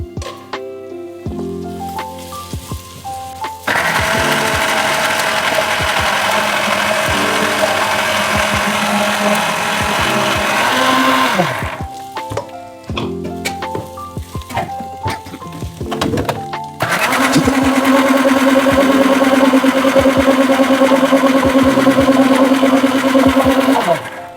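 An electric mixer grinder grinding masala paste at home, running in loud steady whirring bursts separated by quieter pauses with clicks and handling noise.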